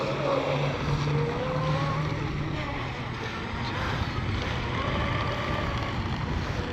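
A J&R Marine H26 RC hydroplane runs across the water with a steady, continuous motor whine, heard at a moderate distance. Wind noise buffets the microphone throughout.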